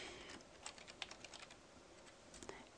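Soft, close clicks of a computer keyboard as a file name is typed, a sparse run of individual keystrokes in a quiet room, ending with a slightly louder click.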